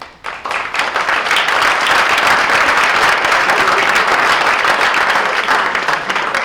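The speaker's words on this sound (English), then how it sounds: "So if you'll raise your hands and get an applause" Audience applause for graduating seniors at a lecture event, a dense, loud wash of clapping that swells in quickly and holds steady without voices.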